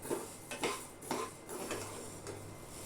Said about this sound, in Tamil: இருப்பு சட்டியில் போட்டு அதை நல்லா வாசம் வர வரைக்கும் வறுத்து எடுத்துக்கலாம்